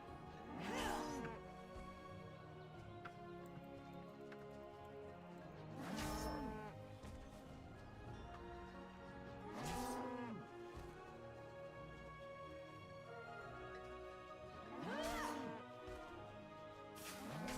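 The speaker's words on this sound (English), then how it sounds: "Now the cows will never come home." Cows in the World of Warcraft farm area moo in four long drawn-out calls spaced a few seconds apart, each loud and near, over a steady ambient game soundscape.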